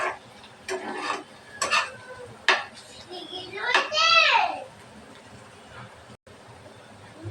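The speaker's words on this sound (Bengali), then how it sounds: "ভাজিটা আবার একটু নাড়াচাড়া করে উল্টিয়ে পাল্টিয়ে নেব" A bitter gourd fry is stirred and flipped in a pan, with a few scraping clinks of the utensil against the metal and a soft sizzle, under a voice talking nearby.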